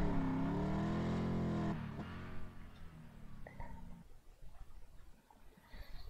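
A car engine revving in the mobile drifting game Deriva Max Pro, a loud sustained engine tone that rises and holds, then drops away to fainter shifting engine noise and tire sounds.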